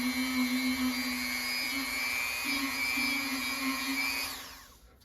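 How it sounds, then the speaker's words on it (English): A buffing wheel polishes the brass slide of a Holton H181 trombone, giving a steady, whining hum that holds for about four seconds and then winds down as the wheel spins to a stop. "I'm just gonna go ahead and clean up the work I did with a little bit of buffing wheel."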